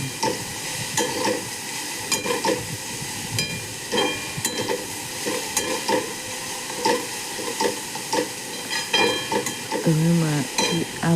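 Raw cabbage being stirred in a pan with salt, a steady scraping and sizzling texture running throughout with periodic louder utensil strokes.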